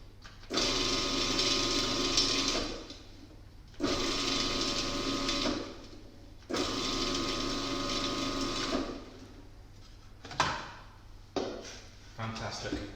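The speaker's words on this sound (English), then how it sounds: "So, we're going to pulse these leaves until they're roughly chopped." A food processor pulses basil and parsley leaves for pesto in three long whirring bursts, each a few seconds, followed by a couple of short clunks and taps, close and fairly loud.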